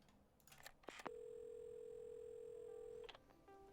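A telephone dial tone in the repair game Assemble With Care: a few soft clicks of the receiver being lifted, then a clear, steady tone holds for about two seconds before cutting off.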